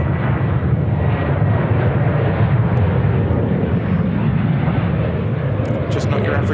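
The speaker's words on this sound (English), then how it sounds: "the Jetstar 321s, we're lucky we get to see quite a fair few of them operating out of Sydney here" Jetstar Airbus A321 airliner at Sydney Airport, a loud, steady broadband jet engine roar filling the scene as a person talks over it.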